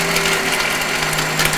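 A blender grinding pistachios and other solids for a salad dressing, a dense continuous whirring grind with a rattling, ratchety texture, loud and close for under two seconds with no talking.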